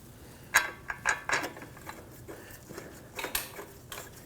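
Mechanical clicks and ratcheting while a bolt is started by hand on a Volvo XC60 front CV axle, several short metallic ticks close by in an otherwise quiet setting.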